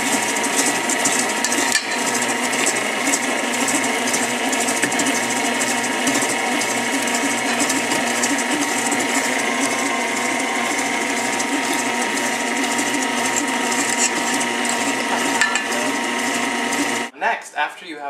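KitchenAid stand mixer on a low speed beating white chocolate chip oatmeal cookie dough, a steady motor whir with rhythmic churning that runs continuously before stopping near the end, with a voice talking over it.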